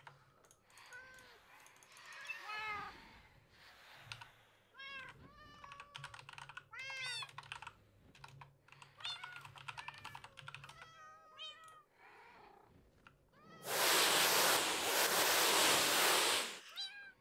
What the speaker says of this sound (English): Listen to the cats.